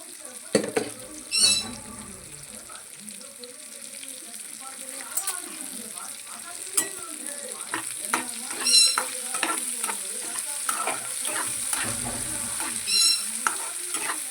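Dried red chillies and curry leaves frying in hot oil, a moderate crackling sizzle punctuated by repeated spatula scrapes and taps against the pan, close and without speech.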